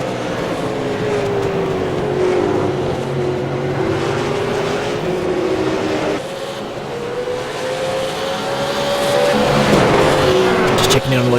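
V8 Supercar race cars in the iRacing sim at Sebring, engines droning steadily with rising and falling pitch as cars jostle for position, tire noise mixed in, under continuous race commentary.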